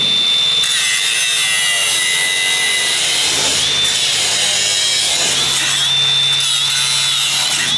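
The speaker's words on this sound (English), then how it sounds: "Give me the grinder, give me the goggles, let's go to town." Angle grinder cutting into scrap metal, a continuous loud high-pitched whine and grinding rasp that holds steady throughout with slight dips in pitch as the disc bites.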